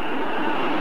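A Tornado jet roars past at the Sion airshow, a loud, continuous broadband engine rush filling the whole brief moment without pause.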